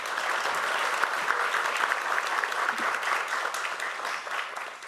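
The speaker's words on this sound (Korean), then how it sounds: "다시 한번 박수 좀 부탁드리겠습니다." An audience at a policy forum on young adults with borderline intellectual functioning claps steadily, a full, even round of applause that fades slightly at the end.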